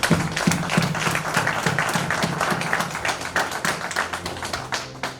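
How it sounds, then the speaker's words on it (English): Audience at a book launch event applauding, dense steady clapping from many hands with some sharper nearby claps, continuous for several seconds. "let us appreciate them by giving them a good round of applause"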